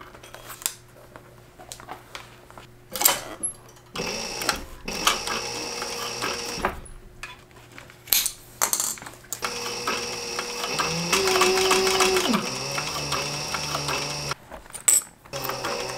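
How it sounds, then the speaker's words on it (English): Sewing machine stitching the edges of a leather bag, bursts of mechanical whirring and ticking separated by pauses, with clicks and handling sounds between runs, close and fairly quiet. "So here we got the edges sewn together,"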